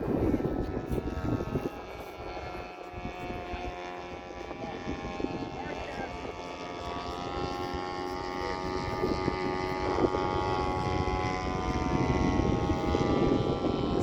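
A propeller aircraft comes in to land, its engine drone loud and steady throughout while people talk nearby.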